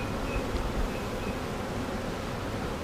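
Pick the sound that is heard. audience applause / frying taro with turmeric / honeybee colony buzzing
honeybee colony buzzing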